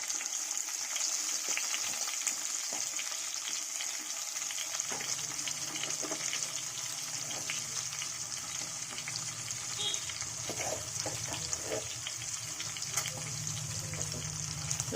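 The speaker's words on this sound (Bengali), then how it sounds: "আলুটা প্রায় ভাজা ভাজা হয়ে গেছে।" Potatoes frying in a pan with salt and turmeric as part of a Bengali hilsa and cabbage cooking session, a steady close sizzle running throughout with occasional stirring scrapes.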